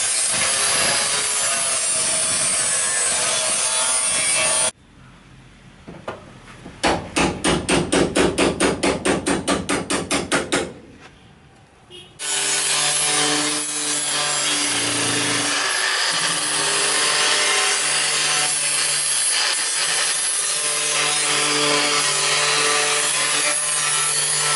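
A steel chisel works old wood and paint off the body of a Volkswagen Kombi van under restoration, giving a rapid run of sharp scraping and knocking strokes that stands out between stretches of steady background noise.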